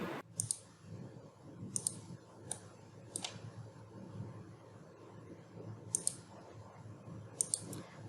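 Computer mouse clicks snap out in small, sharp bursts, several single and double clicks spaced irregularly over quiet room tone, close and crisp.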